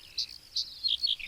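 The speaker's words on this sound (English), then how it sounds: "Are the bird noises too much now?" Ambient bird and cricket recording playing quietly as background on a live stream, with soft, high chirps repeating in short bursts at an uneven pace.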